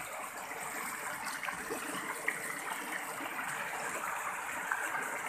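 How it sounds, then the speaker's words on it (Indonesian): A river stream flows through the Batu Gajah nature spot in Rokan Hulu, a soft, steady babble and trickle of water with a couple of faint splashes, no speech. "penampakan dari aliran sungai yang ada di objek wisata Batu Gajah ini"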